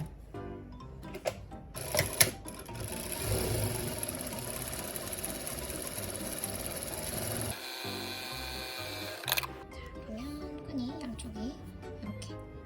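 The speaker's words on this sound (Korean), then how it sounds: "이쪽 면을 박았으니까 이쪽 면도 똑같이 박아줄게요" A sewing machine stitches along the strap of a handmade eco-bag. A continuous mechanical run lasts several seconds and is framed by scattered clunks and background sound, with a voice present.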